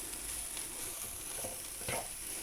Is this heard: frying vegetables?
yes